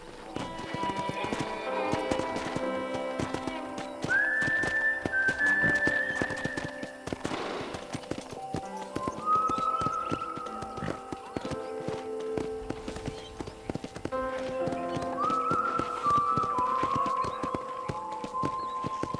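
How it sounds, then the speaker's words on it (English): Steady clip-clop of horse hooves with jingling tack in the video game Red Dead Redemption, loud and rhythmic throughout, with occasional horse whinnies and game music tones over it. "let's see if you can still ride a horse."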